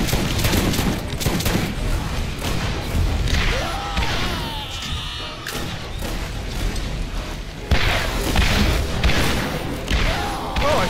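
Dense volleys of gunfire from the shooter game Borderlands Remastered, with repeated loud thumping shots and crashes packed close together across the whole stretch, plus scattered voice-like sounds mixed in among the shooting.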